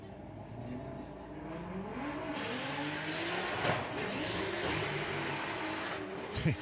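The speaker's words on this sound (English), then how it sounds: "Jacob's car's scrabbling for grip there" A drag racing car scrabbling for grip on the strip at Santa Pod, heard as a distant, sustained engine roar with shifting pitch and faint tyre noise, fairly quiet and without speech.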